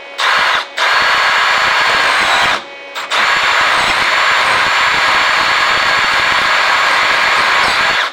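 A power drill with a 0.147 inch bit whines loudly and steadily while boring a gas block hole for an FAL rifle, with two brief pauses early on before a long sustained run.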